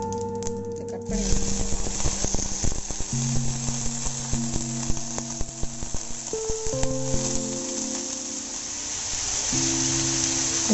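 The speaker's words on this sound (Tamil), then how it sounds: "இப்போ நல்லா பொரிய ஆரம்பிச்சிருச்சு" Plantain pieces sizzle and splutter in hot oil in a home kitchen, a dense crackling fry with sharp pops and scraping stirs, steady and close over a faint background tone.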